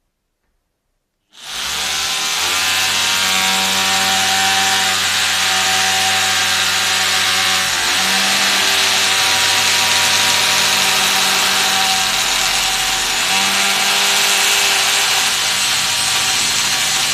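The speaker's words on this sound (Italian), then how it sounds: "e iniziare a tentare di perforare il mio calcestruzzo" A Parkside PBH 800 A1 800 W hammer drill with a 6 mm bit boring into concrete starts after a moment of silence, then runs loud and continuous with a steady droning whine and slight dips in pitch, close and without speech.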